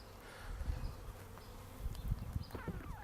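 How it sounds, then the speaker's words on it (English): Honey bees buzzing close by as they are brushed off a comb during a hive split, a steady insect drone with soft handling bumps and no talk. "Just take the bees off of here though."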